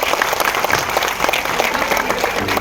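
Audience at a movie screening breaks into loud, sustained applause, dense clapping filling the whole stretch without pause.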